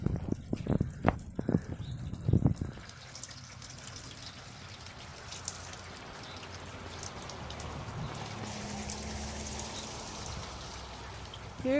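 Water pours down a rain chain built from dollar-store buckets and nylon chain, trickling and splashing continuously at a moderate level, preceded by a few sharp clunks and brief talk at the start.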